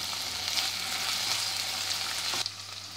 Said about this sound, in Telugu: ఇప్పుడు ఇందులో అల్లం వెల్లుల్లి పేస్ట్ వేస్తున్నాను.